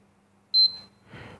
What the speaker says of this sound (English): We have heard second beep sound.